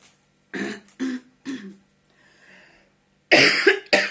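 A woman coughs three times in quick succession, pauses, then lets out a harsher double cough nearby.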